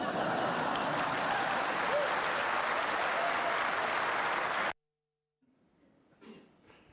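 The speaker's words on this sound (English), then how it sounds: "You can applaud." A talk audience at an advertising industry event breaks into dense, steady applause for several seconds, then it cuts off abruptly into near silence with faint shuffling afterward.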